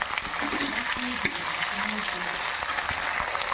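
Vegetables and stalks sizzling in a pan, a steady crackling hiss that runs throughout, with a few soft clatters from stirring and a faint voice talking underneath.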